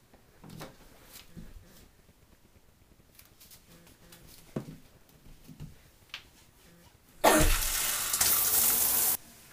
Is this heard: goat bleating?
no